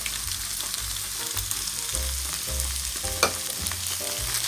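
Ketchup being stirred into a cheeseburger casserole mixture in a pan, a steady sizzle under repeated low scraping strokes of a spoon, with one sharp clink near the end and no voices.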